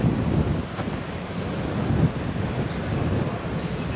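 Strong wind buffets the microphone beside the water, a continuous loud roar with rumbling gusts and a faint wash of surf underneath throughout.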